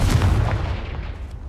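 A Confringo explosive spell goes off in Hogwarts Legacy, one brief, loud, booming blast with a rumbling low end that quickly fades.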